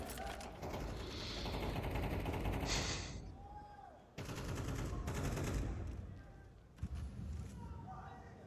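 Gunfire from a Counter-Strike match, bursts of rapid shots and sprays with mechanical clicks, loud and close, cutting in and out across several segments.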